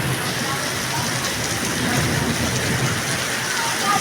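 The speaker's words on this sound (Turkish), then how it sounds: "Şu anda yağmur, çok fena yağmur başladı." Heavy rain in Esenyurt, Istanbul, a steady, dense hiss of downpour that fills the whole stretch without pause.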